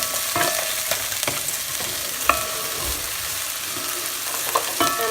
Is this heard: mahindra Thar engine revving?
no